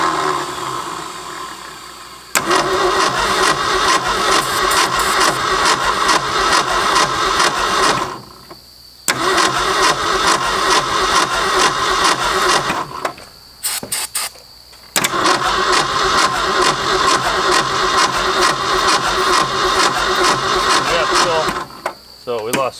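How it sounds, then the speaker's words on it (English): A long-abandoned Ford F250 engine cranks over in three long starter bursts with a rapid rhythmic churn, pausing briefly between tries, close and loud, with a few voices heard in the gaps. "See if we can get it crank over fast enough to fill up."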